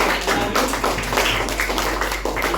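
Classmates applaud a student group, a close, busy burst of many hands clapping in a quick uneven patter that fills the room.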